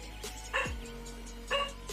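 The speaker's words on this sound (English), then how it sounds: "What are you barking at, Molly?" Two sharp barks from a pet dog named Molly, spaced about a second apart, ring out close by and fairly loud in a quiet indoor room.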